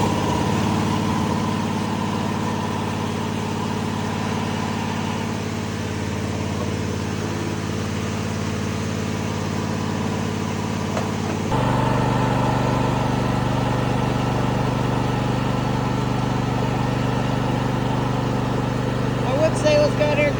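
A Cub Cadet SLT1554 lawn tractor engine idles steadily close by with a low drone, then its pitch and loudness step up partway through as throttle is added, while someone talks over it.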